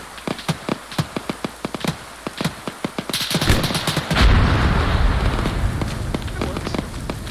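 Rapid, evenly spaced gunshots in a military shooter game, a quick run of sharp cracks followed by a heavy roaring blast and rumbling aftermath that fills the rest, with voices faintly present.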